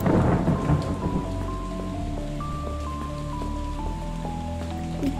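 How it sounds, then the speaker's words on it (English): Thunder rumbles loudly at the start, then steady rain patters on in the video game Five Nights at Freddy's: Security Breach, accompanied by a slow sequence of sustained synth tones. "It's raining."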